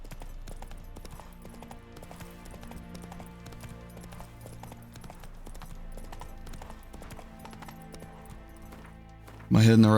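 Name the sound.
horse Roach galloping, from a video game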